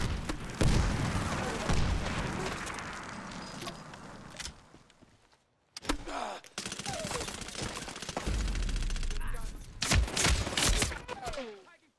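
Rapid bursts of gunfire and explosive booms from the Medal of Honor Warfighter shooter game, dense and continuous, cutting out briefly midway, then resuming with voices shouting over the firing.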